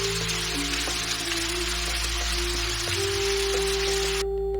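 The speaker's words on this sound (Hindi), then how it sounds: "बारिश शुरू हो गई" Steady rain pours down in an animated Hindi story, a dense continuous hiss laid over a low sustained tonal music bed, cutting off abruptly at the end.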